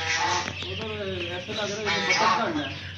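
Hens clucking and squawking close by, a busy run of short calls mixed with people talking over them.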